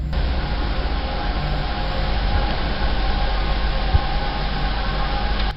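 Distant train rumbling through a tunnel, a dense, steady, roaring wash of low noise that holds evenly throughout with no voices over it.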